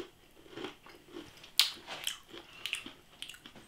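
Close, quiet crunching and biting on spicy Bombay mix with lentils and peanuts, with irregular crisp bites and one sharper crunch in the middle, and no voices.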